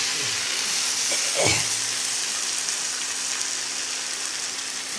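Mixed vegetables, five to seven kinds, land in a hot pan for a prawn curry and set off a loud, steady sizzle with a brief clatter at the drop.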